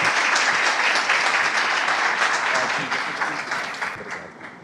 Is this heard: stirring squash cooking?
no